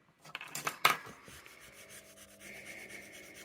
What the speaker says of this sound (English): I think I'll just rub away what's there